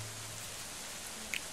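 Steady rain falling in the medieval colony-building game Going Medieval, a soft, even hiss of drops that continues unbroken at low volume, with one faint click near the end.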